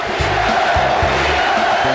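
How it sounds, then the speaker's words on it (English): A basketball arena crowd at Boston Garden chanting "Beat LA" during the Conference Finals, a loud, dense roar of many voices with rhythmic rising shouts. "You hear the crowd is chanting to the Sixers?"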